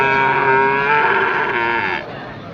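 A cow lets out a long, loud, sustained moo close by at a busy rural cattle market in Sonamukhi, Kazipur, Sirajganj, the call holding steady for about two seconds before tapering off.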